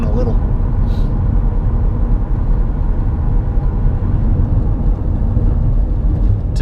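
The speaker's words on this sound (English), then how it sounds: "at least y'all can hear the engine kind of groan a little" Continuous loud low engine drone and road rumble from a car during a 0-60 mph acceleration run, steady throughout with no talk over it.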